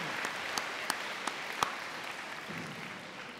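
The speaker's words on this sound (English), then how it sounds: "Let's give these students one more big round of applause" A graduating high school class receives a round of applause at a senior convocation, a steady, even wash of clapping from a large audience with a few sharper claps standing out near the front.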